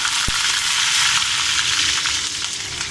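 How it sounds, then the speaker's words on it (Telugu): Green chillies and curry leaves sizzling in hot oil for dondakaya chana dal, a loud, dense, even crackle with one sharp knock early on. "పచ్చిమిర్చి, కరివేపాకు వేసుకుంటున్నాము."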